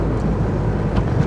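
A car engine sputters at about 2,000 RPM while running low on fuel, making a brief, close, uneven rumble with irregular low pulses.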